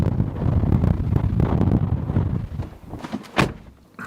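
Strong wind buffets the microphone outside a Hummer EV SUV, a rough low rumble with gusty swells, ending in a brief thud like a door, with no talk.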